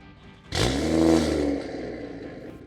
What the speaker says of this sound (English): Now let's hear the new regular startup with the valves open